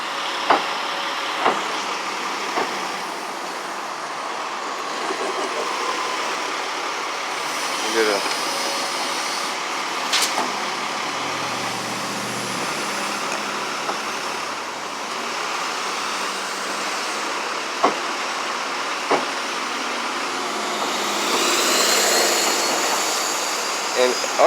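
Steady broadband roar of Boston city street traffic at a busy, maze-like intersection, with a few sharp clicks and thumps rising over the constant wash of passing vehicles.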